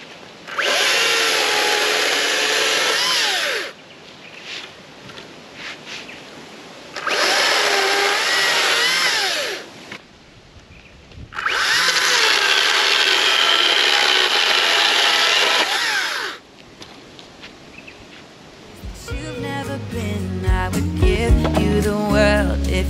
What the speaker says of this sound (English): good little addition to the kit, the electric chainsaw